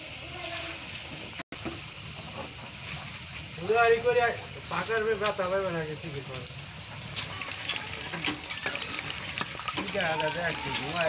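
Oil pitha, a palm-sweet fried cake, frying in hot oil, with a steady crackling sizzle running throughout and a voice talking over it for most of the time.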